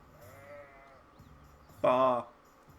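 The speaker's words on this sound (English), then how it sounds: "Oh my god, there's sheep." A sheep in the video game Hogwarts Legacy lets out one loud, short bleat near the end, after a quieter stretch with a soft voice in the background.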